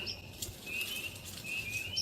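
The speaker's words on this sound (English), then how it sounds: "they make a sound kind of similar to redwings" Small unidentified birds in grass, their calls like a redwing's, give a few thin, high chirps and whistles over soft fluttering, close by and fairly faint.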